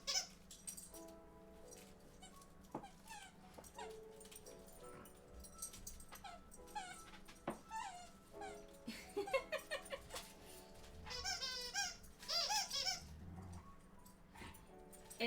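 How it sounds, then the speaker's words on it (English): Dogs at play with squeaky toys, repeated high rubbery squeaks and whiny yips in uneven bursts at close range, over a steady low hum. "they get their second wind of being obnoxious with their squeaky toys"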